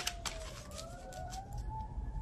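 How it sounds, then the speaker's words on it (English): A distant siren wails with slow rising and falling pitch sweeps, moderately faint over a low rumble of background noise, joined by a few brief clicks. "You hear them sirens?"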